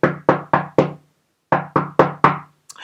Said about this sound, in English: There is somebody knocking at the door now.